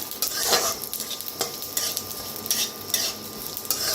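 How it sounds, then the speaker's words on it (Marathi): Sesame seeds roasting with peanuts in a pan over a low flame, a light crackling sizzle broken by repeated scraping strokes of a spatula, close and lively, with no voices. "तीळ बी भाजून घेऊया त्याच्यातच। लगेच भाजतात बघा, तीळ उशीर लागत नाही, गॅस कमी करून भाजा"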